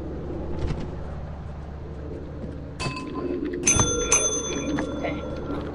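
A bell in the video game Lethal Company rings a couple of times, with bright, sustained metallic tones standing out over a low in-game background rumble.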